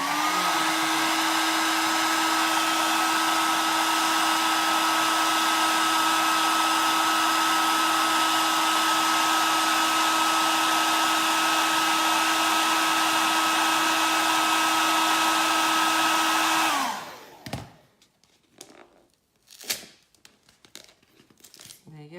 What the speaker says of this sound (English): the best thing to do when you want to take them off is use your hair dryer